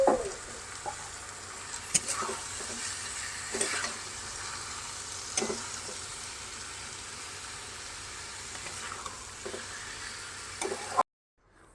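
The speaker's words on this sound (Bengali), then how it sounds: "এই মানকচুগুলো এবার কড়াইয়ের মধ্যে দিয়ে মানকচু সমেত মশলাটা আমি আবার ভালোভাবে কষে নেব।" Taro (mankochu) and spices being stir-fried in a wok give a steady, close sizzle with scraping stirs at intervals, continuing without talk until an abrupt cut near the end.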